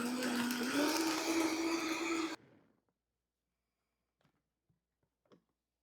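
A blender whirs loudly on quartered lemons for a lemon drink, a steady high motor whine that cuts off after about two seconds, followed by quiet with a few faint clicks and taps.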